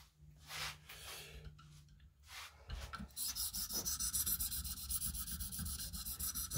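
An M390 steel knife is being sharpened on a 600 grit abrasive. A few quieter scrapes lead into a steady run of close, rhythmic rasping strokes that continue without pause.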